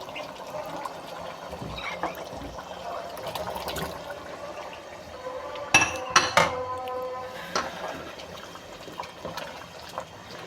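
Cut potatoes are dropped into a pot of beef pulao with a few sharp clinks and clatters of metal cookware midway, over a faint kitchen background.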